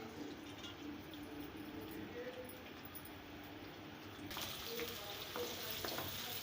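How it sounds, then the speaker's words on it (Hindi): Chopped medium onion frying in hot oil for restaurant-style chana dal tadka, a steady soft sizzle that brightens and grows louder partway through, with light stirring clinks and no talk. "प्याज को हम लाइट गोल्डन होने तक फ्राई करेंगे।"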